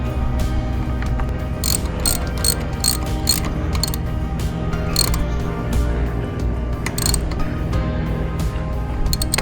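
A ratchet fitted with a 13mm socket clicks rapidly in repeated strokes while tightening a winch ground connection, close and crisp over a steady background hum.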